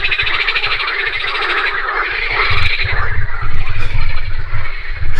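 A dense chorus of frogs croaks in a pond, loud and close, with overlapping rapid calls that grow fuller and busier toward the end.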